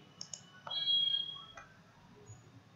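Computer mouse clicks while setting up iCSEE camera management software on a PC: two quick light clicks near the start, then a softer click, in a quiet room with no speech.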